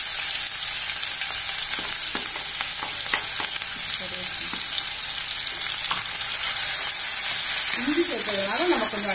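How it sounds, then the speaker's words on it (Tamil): Fennel, ginger and garlic fry in hot oil for a Chettinad prawn gravy, a steady close sizzle with scattered crackles and brief stirring scrapes, a voice hum rising near the end. "இப்போ நம்ம வந்து பெருஞ்சீரகம், இஞ்சி, பூண்டு இந்த இதை சேர்த்துக்கலாம்."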